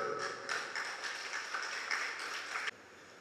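An audience at a special meeting of a temple festival committee claps in approval of the accounts, a dense burst of applause for about three seconds that stops abruptly, with no talk over it.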